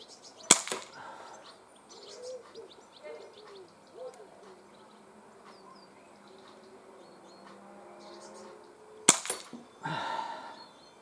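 An Umarex CP88 air pistol fires double action, freestanding at 15 meters outdoors, two sharp isolated cracks several seconds apart, with faint birdsong and quiet background between shots.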